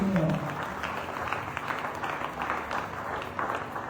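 A church congregation at a Sunday service applauds in praise, a steady wash of clapping and cheering that fills the room for the whole moment without pause.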